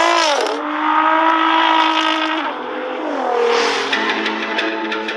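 Two Nissan GT-Rs, a stock car and a tuned KR650 version, in a drag race: loud engines rev hard with rising, falling pitch sweeps through gear changes, roaring steadily close by for about five seconds.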